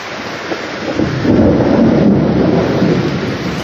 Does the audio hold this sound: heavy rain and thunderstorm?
yes